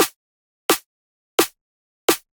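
Four layered, EQ-shaped drum and bass snare hits strike at an even pace, each a sharp, bright crack with a short body that cuts off cleanly into silence, close and loud with no voices.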